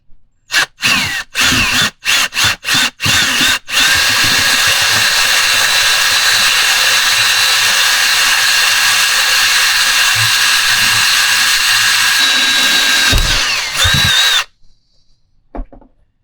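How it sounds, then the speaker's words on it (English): A power drill whirs in several short bursts, then runs loud and steady for about ten seconds before stopping abruptly, drilling a hole while fitting ferrules on a custom fishing rod. "find a spot to drill the hole."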